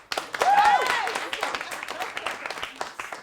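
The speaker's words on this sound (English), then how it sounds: "Clap your hands if you have no idea what's going on" Comedy club crowd clapping hands at a magic and stand-up show, a brief burst of applause mixed with whoops and a rising cheer that thins into scattered claps.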